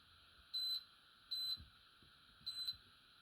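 An air fryer gives three short, high electronic beeps, evenly spaced, as its timer is set for fish sticks, against a quiet background.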